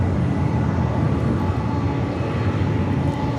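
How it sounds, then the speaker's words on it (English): A Spirit Airlines Airbus A320 taking off from Los Angeles airport, with a loud, broad jet engine roar that holds steady throughout. "That is Spirit Airlines 1641 taking off to Las Vegas on the A320."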